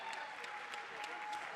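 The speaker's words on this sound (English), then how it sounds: "a huge round of applause for all of them" A crowd applauding the players at an Unrivaled basketball game, a brief, even wash of clapping with a few louder claps popping out, heard from a distance.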